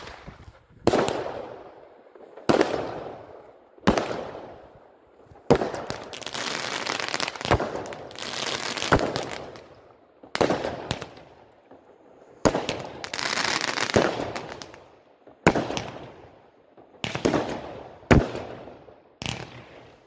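A 16-shot 20mm Mafia firework battery by Triplex fires in a steady sequence of sharp launch thumps and crackling bursts, about a dozen loud reports spaced one to two seconds apart, with no talk.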